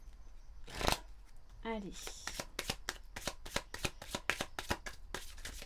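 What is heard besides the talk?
shuffling oracle cards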